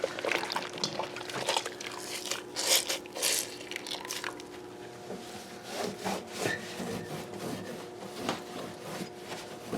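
Greasy metal grate where an over-the-range microwave filter sits being wiped down by hand, with steady rubbing and scrubbing scrapes, some crunchy bursts, continuing close and moderately loud throughout.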